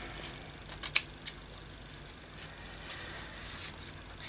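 Scissors give a few quick, quiet snips as they cut a strip of fabric for a junk journal spine. The snips cluster near the start, followed by faint rustling and handling against a soft background.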